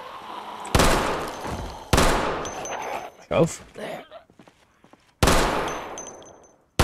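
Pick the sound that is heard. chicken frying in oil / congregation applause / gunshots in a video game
gunshots in a video game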